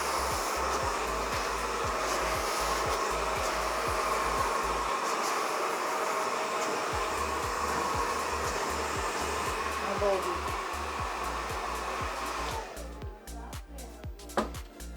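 A hair dryer blows continuously at close range during a salon blow-dry, a steady loud whoosh with rhythmic brush strokes, then cuts off near the end, leaving brief handling noises.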